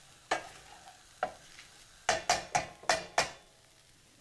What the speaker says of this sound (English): And then stir this into the kedgeree, which is now cooked